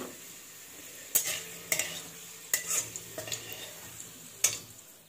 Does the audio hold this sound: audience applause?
no